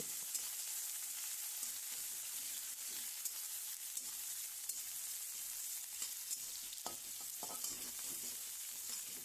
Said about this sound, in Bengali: এর মধ্যে দিয়ে দেব কুচিয়ে রাখা পেঁয়াজটা এবং পেঁয়াজটা একটু ভালো করে ভেজে নেব